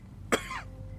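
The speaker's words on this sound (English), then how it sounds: "He coughed." A single short, sharp human cough, close and fairly loud, followed by a brief fading tail and quiet room tone.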